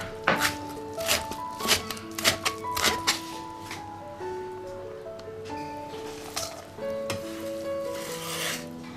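A knife chops salted, water-sprinkled shredded cucumber on a board, with a quick run of sharp, closely spaced thuds early on, then sparser cuts against a faint background hum.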